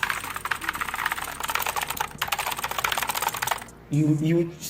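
Rapid, steady clicking of an HP GK100F keyboard being typed on for several seconds, close up, followed by a brief burst of a voice talking.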